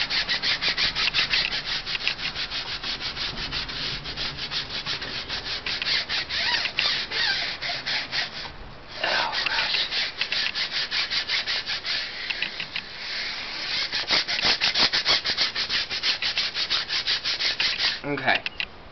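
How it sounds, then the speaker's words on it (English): A brush scrubbing a car tire, with continuous close rubbing strokes in a fast steady rhythm, one brief pause midway, and no talking. "let's scrub the tire one more time"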